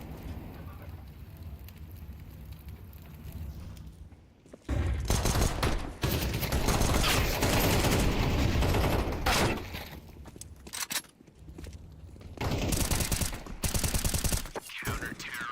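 Pistol gunfire in a Counter-Strike esports match, dense bursts of rapid shots and impacts in two loud clusters separated by quieter stretches of game ambience.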